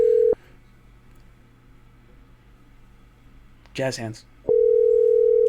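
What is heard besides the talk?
telephone dialing and dial tone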